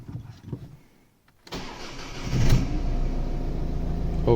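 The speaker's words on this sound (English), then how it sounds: "let's try to start the motor" A Ford Mondeo with a U1900 fault code cranks and starts, first a few clicks and quiet, then the starter whirs and the engine catches into a steady, loud idle close by.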